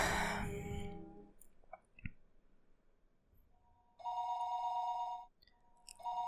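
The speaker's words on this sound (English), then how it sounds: "The phone rang noisily downstairs." A telephone rings noisily downstairs: one long, loud electronic ring and then the start of another, after a quiet stretch that opens with a short burst of noise.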